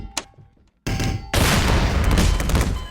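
A video game explosion erupts after a short quiet gap: a sudden loud blast rolls into a dense, sustained rumbling roar of debris and fire.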